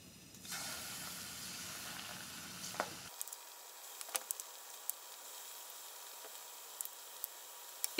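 Radish dumpling batter frying in hot oil at about 180°C, giving a steady hiss that thins out partway through, scattered with small sharp pops and crackles.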